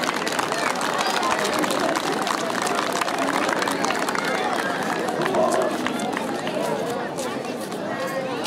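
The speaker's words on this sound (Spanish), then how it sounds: "A ver, los recibimos con fuertes aplausos." School audience at a Mother's Day celebration in Arequipa applauding as students arrive to sing, a dense, continuous roar of clapping and crowd chatter that stays loud throughout.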